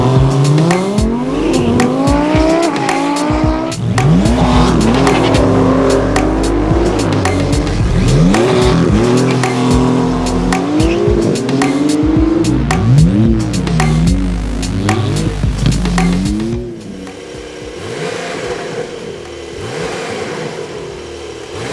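A modified Porsche 992 911 race car drives at a track, its engine loud and close as it revs hard through repeated upshifts and downshifts, with tire squeal, before the sound fades to a lower rumble near the end.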